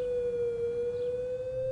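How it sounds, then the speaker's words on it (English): A warning siren holds a steady, loud wailing tone with faint overtones, sustained without a break. "A warning siren would then be sounded. It consists of a modulated sound, in other words, rising and falling,"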